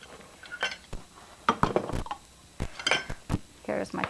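Kitchenware being rummaged through while searching for a 1 cup measuring cup: scattered clinks and clatters of pots, utensils and glass, close and irregular, with short pauses between bursts.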